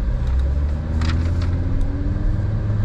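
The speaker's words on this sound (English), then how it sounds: "Like I have the Unitronic Midpipes installed and it definitely sounds good" Audi RS3 with Unitronic midpipes driving along, its engine and exhaust a steady low rumble close by, with no voices over it.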